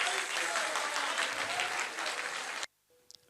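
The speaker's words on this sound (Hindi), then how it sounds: "हम सब ताली से उनको सम्मान करते हैं।" Audience at a grand welcome gathering at Siddhashram claps for an honoured guest, dense sustained applause for over two seconds that stops abruptly, followed by near silence.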